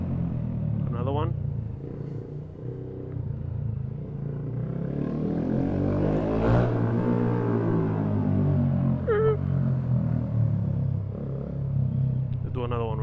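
Honda Grom motorcycle fitted with a new exhaust revving hard during wheelies on a late-night ride, a loud continuous engine drone swelling and falling with throttle, close and steady throughout.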